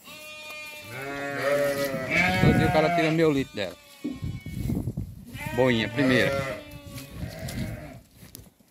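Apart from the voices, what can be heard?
sheep and goats bleating on a farm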